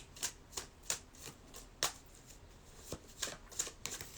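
Tarot cards being shuffled by hand, a series of quick riffling bursts in an irregular rhythm, close and fairly quiet with no talking.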